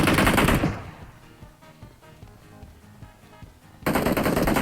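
PUBG Mobile gunfire: dense, loud bursts of rapid automatic shots open the clip, followed by a quieter stretch of scattered distant pops, then another heavy volley at the end.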